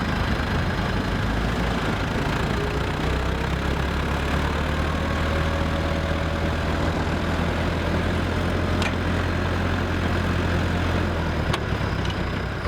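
A tractor engine runs steadily at idle while being linked up to a vehicle bogged on safari, a continuous low rumble with a couple of faint clicks and no talk.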